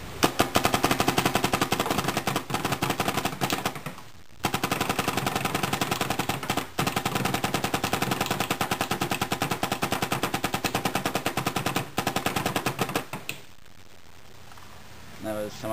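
A Proto SLG paintball marker fires in semi-automatic mode in a long, rapid string of sharp pops, close and loud, broken by a few brief pauses.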